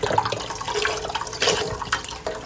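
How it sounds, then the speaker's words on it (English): Vegetable stock being poured into a soup pot for pasta e fagioli produces a continuous, close liquid splashing and gurgling that lasts a couple of seconds, with no talking over it. "We're going to add 4 cups of vegetable stock right in here."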